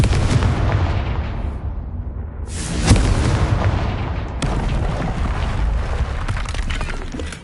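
Confringo blasting spell detonating in Hogwarts Legacy, a booming explosive burst near three seconds and another crack around four and a half, over a constant rumbling game backdrop.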